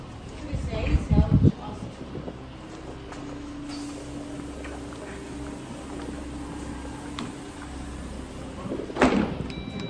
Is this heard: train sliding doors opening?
yes